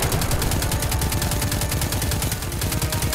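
Rapid automatic gunfire from a weapon in the video game Destiny 2, a steady, dense burst of shots running loud and continuous throughout.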